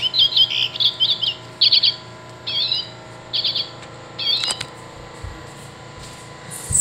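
Common redpoll calls played from a Wild Republic Audubon plush toy: a series of short, buzzy trilled chirps in separate bursts, fairly clear over a low hum, fading into a few faint handling clicks at the end.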